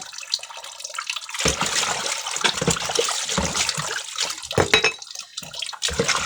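Water is scooped and poured with a dipper for washing, splashing and trickling in uneven bursts close by. The pouring starts after a short quiet moment and goes on with no talking.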